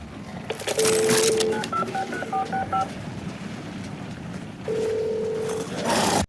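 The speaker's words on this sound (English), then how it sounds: "When you hold X on the modem, you're going to hear this sound." A modem in Infinite Warfare Zombies dialing, a quick run of bright touch-tone beeps with a longer tone at the start and another near the end, over a low rumbling game background.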